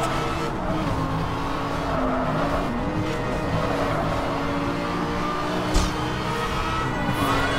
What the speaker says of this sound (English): I am driving very fast.